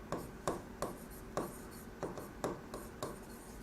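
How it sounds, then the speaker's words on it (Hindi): Pen or marker writing notes on a board during a business economics lesson: a steady series of short scratchy strokes about every half second, close and fairly quiet. "तो यहाँ पर लिखते हैं"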